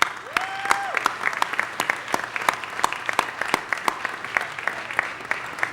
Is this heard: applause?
yes